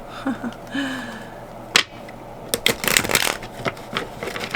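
Tarot cards being shuffled in several quick riffling bursts, with soft rustles and a brief pause before a longer, louder flurry of shuffling close by.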